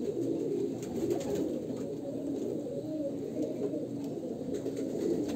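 Pigeons coo in a continuous low, throaty murmur up close, steady and layered throughout with no other sounds.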